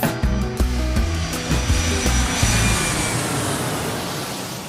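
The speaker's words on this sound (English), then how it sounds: "part 2 of Carolyn's round trip story gets ready for takeoff" An airplane taking off sounds as a loud, dense roaring rush of broadband noise, with a rhythmic low thumping at first, then a steady swelling whoosh that slowly fades.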